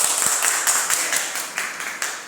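Applause for a teacher at an education forum, a few people clapping in a loose, uneven rhythm of distinct sharp claps, close and fairly clear, fading slightly toward the end.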